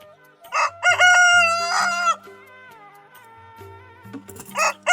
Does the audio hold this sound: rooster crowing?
yes